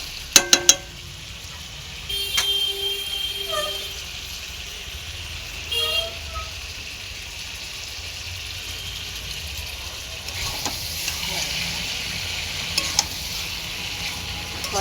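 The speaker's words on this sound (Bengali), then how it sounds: "মাটনটাকে ভালো করে কষতে হবে।" Large pieces of mutton stirred and sautéed in a pan, with a steady sizzle under scraping spatula strokes, a few sharp clinks of the utensil against the pan, and a brief voice in the background.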